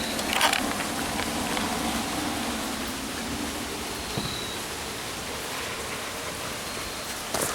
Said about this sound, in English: So, it's like still raining out.